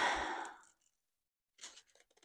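A few short crisp snips and rustles of scissors cutting paper come after a brief breathy sound, then a near-silent pause, all close and fairly quiet.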